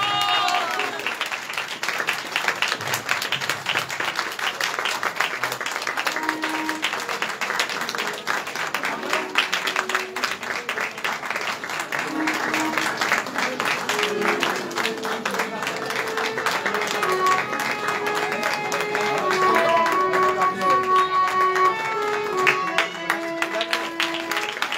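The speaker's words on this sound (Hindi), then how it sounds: "ताली बजाते रहे सब" Audience at a gathering in Baraut clapping continuously in a dense, sustained patter, with voices and some music or singing mixed in over the applause.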